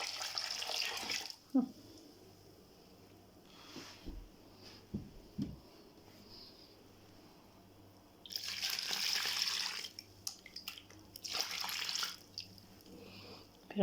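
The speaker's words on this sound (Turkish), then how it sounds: "Şimdi onu suyla çalkalayıp tabii ki de hamura koyacağız." Water splashing and running as a pot that held potatoes is rinsed out for bazlama dough, with two louder bursts of pouring between quieter drips and clinks at moderate distance.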